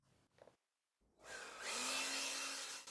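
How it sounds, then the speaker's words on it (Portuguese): A mini leaf blower starts up after a brief quiet moment and blasts dust off a wooden door in a garden workshop, a loud, steady whooshing roar close by. "Se você está se perguntando por que estou usando um secador de cabelo na porta, na verdade é um mini soprador de folhas"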